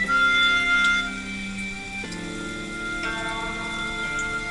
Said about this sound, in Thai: อันนี้มีเสียงฝน